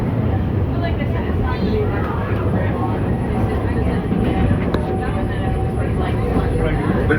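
The Walt Disney World Railroad train rolls along with a steady low rumble and rattle of wheels and carriages, heard from on board as a continuous broadband drone with faint voices in the background.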